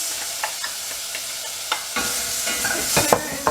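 Vegetables such as carrots and beans frying in a pan that is not too hot, a soft sizzle with scattered scraping and stirring taps that grow busier and louder toward the end, no speech.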